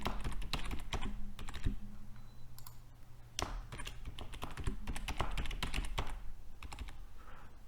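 Rapid, uneven typing on a computer keyboard while entering a password, with clustered key clicks and a few louder taps, close and alone.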